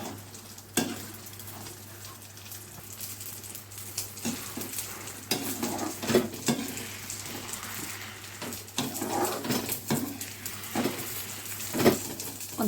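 Stirring a sweet dish cooked in plenty of ghee in a pan over a low flame, a soft sizzling hiss with intermittent scraping and spoon scrapes, steady and close with no talking.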